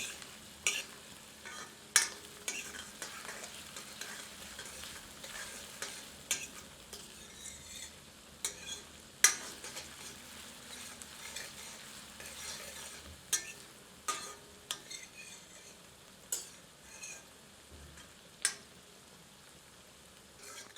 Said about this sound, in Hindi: प्याज को तब तक भूनते हैं जब तक कि प्याज सुनहरी नहीं हो जाती